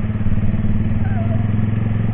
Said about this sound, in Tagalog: Ayan, may mga motor tayo nakakasalubong din ngayon.